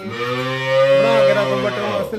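A buffalo heifer on a dairy farm gives a long, loud, close moo with a rich low harmonic tone, swelling in the middle and tailing off near the end, heard alone.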